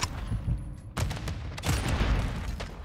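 Bursts of gunfire crackle through a Call of Duty Hardpoint match on the Las Almas map, with several sharp volleys and scattered shots landing close and loud over a rumbling low backdrop.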